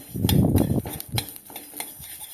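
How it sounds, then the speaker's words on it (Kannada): Rice roasting in ghee in a pan for village-style akki huggi (pongal), stirred with a spoon that gives several close scraping, clinking strokes over a soft sizzle, fading in the second half. "ಒಂದು ಸ್ವಲ್ಪ ತುಪ್ಪ ಹಾಕಿ ಹುರ್ಕೊತಿದ್ದೀನಿ ನೋಡಿ"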